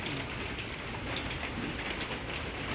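Steady rain falls in Bang Yai, Thailand, a dense hiss of drops pattering on surfaces, with faint bird calls mixed in.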